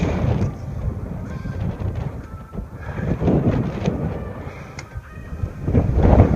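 Blustery wind on a mountain peak buffeting the microphone in uneven gusts, rising and falling throughout with a low rumbling roar.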